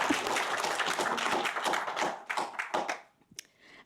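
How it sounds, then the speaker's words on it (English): An audience at a panel on Native voices claps for Raven, a dense round of applause that thins into a few scattered claps before fading out. "Clap for Raven."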